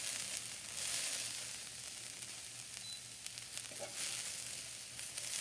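Sprouted chickpeas sizzle in a hot pan as they are stirred, a steady crackling hiss with occasional scraping bursts, fairly soft and close, with no talking.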